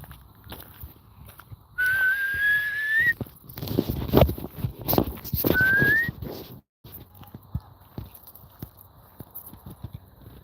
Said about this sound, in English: I had to break out the whistle